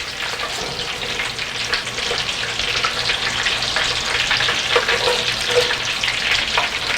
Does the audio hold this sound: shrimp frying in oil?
yes